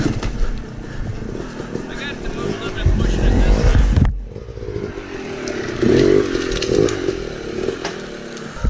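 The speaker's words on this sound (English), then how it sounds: "he's gonna try to pull it out with the tractor" Tractor engine straining as it tries to pull a tree stump out of the ground, a loud rumbling motor that revs, cuts off briefly and then surges again, with people talking over it.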